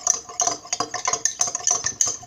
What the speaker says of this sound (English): Let's mix it with the spoon.